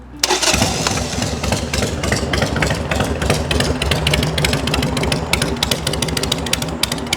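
A motorcycle engine with a chopped cam cover cranks and fires up, then runs steadily with a loud, busy rhythmic idle throughout, no talking.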